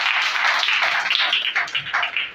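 Crowd applause for a guest being introduced at a speech event for students, a steady dense clapping that swells and ebbs across the whole moment with no talk over it.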